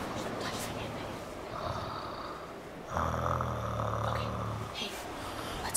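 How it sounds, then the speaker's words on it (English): An elderly woman snores in her sleep, with slow raspy breaths and one louder drawn-out snore, while people whisper nearby. "She's snoring."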